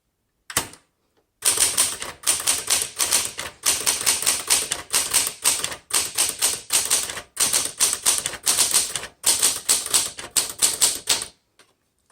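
A 1966 Smith Corona Classic 12 manual typewriter is typed on in a rapid, steady run of sharp metallic key strikes. The clacks come in bursts with brief pauses, close and loud, with no talk.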